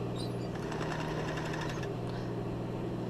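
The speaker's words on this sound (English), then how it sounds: "I'm going to stitch over that on the right side" A sewing machine runs steadily while stitching fabric for a men's thong, giving a close, continuous motor hum with a rapid needle rattle that eases near the end.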